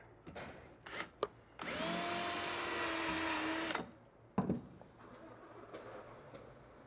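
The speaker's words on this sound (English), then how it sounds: "Pretty easy to drill, it's just plastic." A power drill whirs for about two seconds, high and steady, drilling a hole in plastic, between scattered clicks and clatter of handling nearby.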